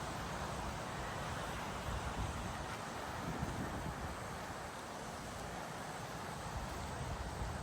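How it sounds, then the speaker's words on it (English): Hurricane Debby wind gusting around 40 to 50 mph across a property near Hastings and Saint Augustine, Florida: a steady, dense roar of rushing air buffeting the microphone for the whole stretch, loud and unbroken. "Right now this is only about 40-ish mile per hour wind gusts"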